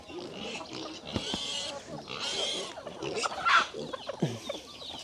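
Pigs at feeding time on a farm, with grunting and oinking mixed among clucking chickens nearby, while someone talks over the steady bustle of the animals.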